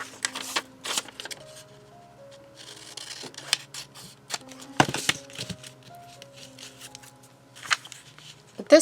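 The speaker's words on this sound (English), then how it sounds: "So I'm going to once again cut it out with my scissors." Scissors snipping paper for a small junk journal postcard project, a run of short crisp cuts and rustling paper under soft background music.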